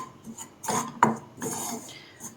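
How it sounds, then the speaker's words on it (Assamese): A spoon stirs wheat flour dry-roasting in a pan, giving soft scrapes and one sharp metallic clink, close and fairly quiet. "এতিয়া মই আটাখিনি ভাজি ল'ম"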